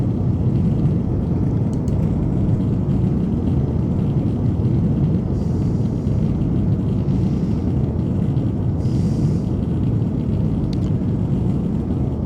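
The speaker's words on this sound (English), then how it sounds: "And listen to that wind noise." Steady, loud broadband roar of wind noise inside the cockpit of a Cessna 414 on landing approach with the gear down, dense low rumble filling the whole clip without a break.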